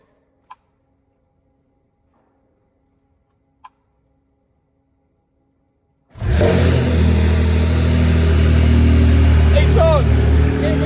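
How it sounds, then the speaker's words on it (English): After near silence broken by two faint clicks, a Ferrari 296 V6 hybrid with straight pipes fires up abruptly and revs loudly, with a deep, sustained, rumbling exhaust close by. "We're going to get to hear the car, and it was the start-stop button."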